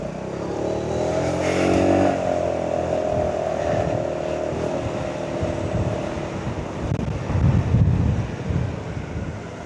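Steady wind rush buffets the microphone on a Honda Forza 250 scooter riding into a city, with the engine droning underneath and a louder gust near the end.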